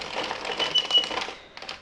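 An Addi or Sentro circular knitting machine is cranked through rows, giving a fast, steady clicking clatter heard up close and on its own.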